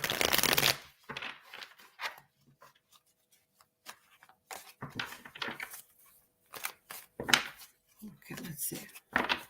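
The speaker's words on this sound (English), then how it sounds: "So I can see if I can pull out a couple of tarot cards for you." Tarot cards being shuffled, a series of brisk riffling bursts with short gaps, close by and mixed with faint talking.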